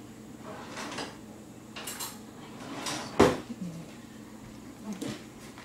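A metal spoon is taken from a kitchen drawer while making a milkshake, giving soft metallic rattles and scrapes with one sharp clink partway through, quiet and close.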